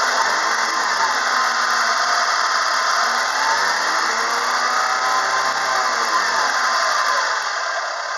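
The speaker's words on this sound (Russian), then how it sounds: "Работа двигателя 3000 оборотов." A 2012 Renault Sandero's 1.6-litre K7M710 engine held at 3000 rpm gives a continuous, loud, droning roar with a slight whine, steady from start to finish, with no talking.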